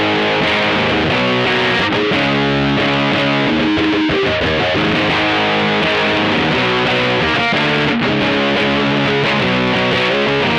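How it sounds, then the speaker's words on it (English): Heavily distorted electric guitar, a Yamaha Revstar RS502 with P90 pickups through a Pixtronics Distortion Micro pedal, playing loud, sustained chords and riffs with a thick, saturated tone throughout. "turn on the Pixtronics Distortion Micro"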